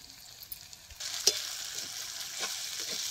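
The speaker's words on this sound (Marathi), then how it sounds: "हे आलं लसूण चेचून घेतल्यात ही बी जरा तेलात भाजून घेते." Crushed ginger and garlic fry in hot oil for a dhaba-style paneer handi, making a quiet, steady sizzle with a few faint scrapes of stirring and no voices.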